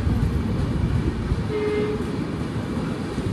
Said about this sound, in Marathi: या ठिकाणी आपली ट्रेन आलेली आहे नंदुरबारला.